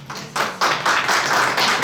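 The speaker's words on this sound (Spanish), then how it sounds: "aplauso entonces para" Audience applause at a live podcast recording, starting with a few scattered claps and quickly swelling into fuller, sustained clapping.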